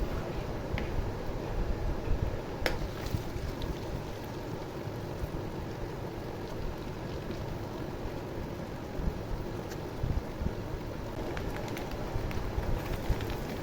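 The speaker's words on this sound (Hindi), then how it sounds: "अब तकरीबन 10 मिनट तक हमें अपने मगज़ को अच्छे तरीके से फ्राई करना है इसके अंदर।" Maghaz melon seeds fry in oil in a pan, giving a continuous, even crackling and sizzling hiss that holds steady throughout with occasional small pops.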